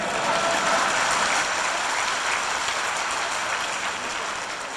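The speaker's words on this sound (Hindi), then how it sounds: "इन्होंने इतनी तालियां बजवा दी आपसे" A large audience applauds at a state-level teachers' honour ceremony in Rajasthan, a loud, continuous wash of clapping that stays full throughout and fades slightly toward the end.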